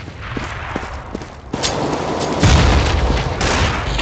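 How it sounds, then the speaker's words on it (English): A grenade explodes in Counter-Strike, a loud deep boom that swells partway through and rumbles on amid game gunfire, close and heavy, with no talk. "Grenade!"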